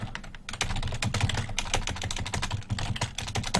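Rapid, continuous typing on a computer keyboard during a World War II Online: Battleground Europe game session, with dense, close clicking keystrokes and no voice.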